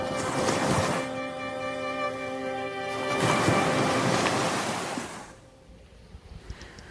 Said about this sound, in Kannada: ಆ ಅಲೆಗಳ ಸದ್ದು ಕೇಳಿಸುತ್ತೆ